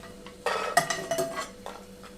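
Fried phool makhana scooped from a pan onto a plate with a spoon, giving a few scattered metallic scrapes and clinks close up in a quiet kitchen.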